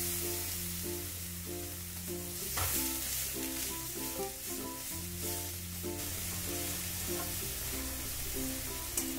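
Yam curry frying in a pan over lowered heat gives a steady close sizzle, with a burst of bubbling hiss as hot water goes in, under background music.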